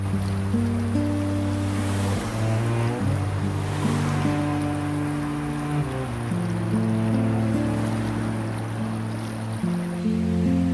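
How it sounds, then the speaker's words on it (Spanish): Waves from the Tyrrhenian Sea surge into the base of a limestone gorge, a continuous loud wash of surf that rolls on throughout under a steady low musical drone. "donde las aguas del mar Tirreno penetran con furia en la base de un desfiladero de piedra caliza"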